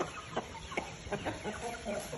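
Young roosters kept as a small batch of birds give short clucks and chicken calls at a moderate distance, several brief bursts over a steady background hiss, with no crow clearly standing out.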